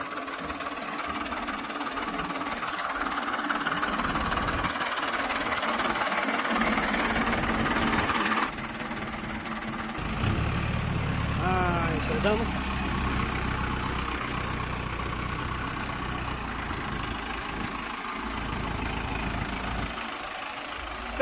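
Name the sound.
tractor engine running while being driven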